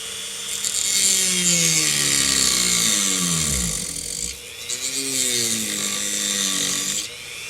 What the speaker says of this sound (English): I think next thing I got to do is really cut that out. Let's get these cut out.